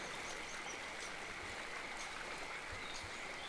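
Steady broadband rush of a flowing river in the Eastshade video game, a continuous soft wash of water with no breaks, fairly quiet and alone with no talk.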